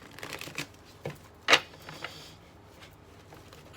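Tarot cards shuffled by hand close up: a few soft riffling bursts with one sharper snap of cards near the middle, quiet surroundings and no talking.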